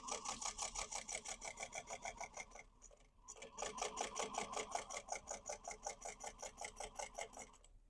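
A sewing machine stitching a basket lining seam, running in fast, even rhythmic pulses, pausing briefly about a third of the way through, then resuming at the same steady pace, quiet and close.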